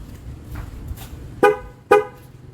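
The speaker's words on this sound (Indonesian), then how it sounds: "klakson ya, klakson yang barunya." A new Denso horn fitted to a Toyota Innova Reborn sounds two short, loud honks about half a second apart over a quiet idling background.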